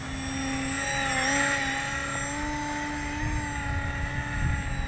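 A homemade twin-rotor RC gyrocopter plane with a World War I style, three-channel control, flies nearby in steady wind, its small motor giving a continuous high buzzing whine with slight pitch wobbles.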